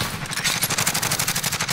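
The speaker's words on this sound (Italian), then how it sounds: "Mi sparano." Rapid automatic gunfire in the Warzone shooter game, a dense, steady stream of shots from a Bruen rifle at close range, loud and continuous throughout with no talking.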